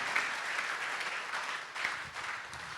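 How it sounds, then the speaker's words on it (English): A church congregation claps hands in steady, dense applause filling the room, moderately loud and continuous, with no voices on top. "Clap your hands to God."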